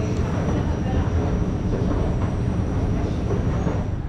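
A passenger train bound for Trakai rumbles along platform 4 at a station, a loud continuous roar of wheels and carriages filling the whole stretch without let-up.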